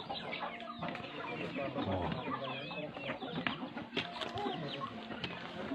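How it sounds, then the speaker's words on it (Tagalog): Native chickens clucking around a trail stop on a hike to Mount Ulap, a dense flock sound of overlapping clucks and crows, close and steady, with a brief spoken exclamation over it. "Oh, daming manok, guys, oh."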